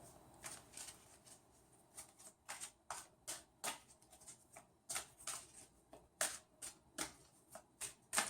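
Tarot cards shuffled by hand in a quiet room, a series of soft, crisp riffling bursts and taps in an irregular rhythm, close and faint.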